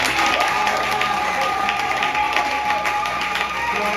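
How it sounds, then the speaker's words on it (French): A church congregation claps and cheers for a man during a service, dense steady applause filling the room at close range throughout. "Est-ce qu'on ne peut pas acclamer pour cet homme?"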